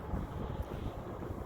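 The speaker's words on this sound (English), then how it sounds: "Kind of windy, highway noise." Gusty wind buffets the microphone beside Highway 58 near Tehachapi, blending with a steady low roar of distant highway traffic, continuous and fairly faint with no speech.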